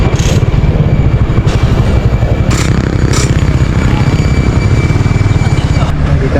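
A Yamaha Aerox v2 scooter engine idles loud and close in a steady low chug, with road traffic passing behind it.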